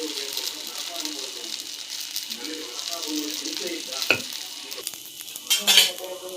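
Dosa batter spread on a hot pan, hotel style, gives a steady close sizzle and hiss with a few scraping clinks near the end, while a person talks over it.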